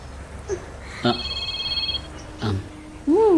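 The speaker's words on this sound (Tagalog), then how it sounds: "Oh, may tumatawag sa cellphone ko." A cellphone rings in a Tagalog drama, a brief electronic tone sounding indoors among scattered speech and other short noises.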